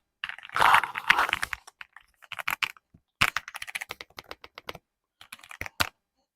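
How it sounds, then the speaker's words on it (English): Clacky keys of an E-Yooso Z-68 65% mechanical keyboard are typed on in close, crisp bursts, a quick flurry followed by shorter clusters of sharp clicks separated by brief pauses. "I love the feel of this keyboard. It's pretty clacky."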